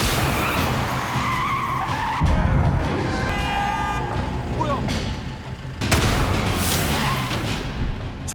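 A limousine skids after rooftop guards shoot out its wheels in a tense drama scene, with a drawn-out tire screech and engine noise over a busy, loud backdrop and sudden impacts.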